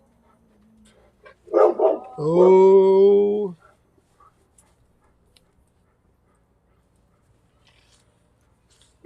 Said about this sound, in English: There goes the dogs after the neighbor's dogs.